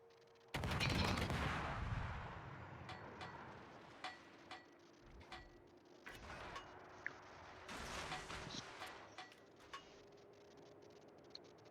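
Naval gunfire in World of Warships: a heavy opening salvo boom followed by scattered distant cannon reports and sharp clicks over a steady low engine hum, fairly quiet overall.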